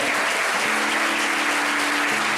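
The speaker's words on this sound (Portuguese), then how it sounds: "Você pode aplaudir ao Senhor?" A church congregation applauds together in a steady, dense wash of clapping that fills the space, with a low sustained tone running underneath.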